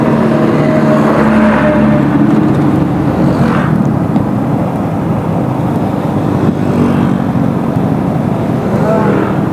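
A motorcycle rides on an uphill road toward Karang Bolong in Kebumen, its engine droning low and steady up close with wind rush and a couple of brief swells in pitch.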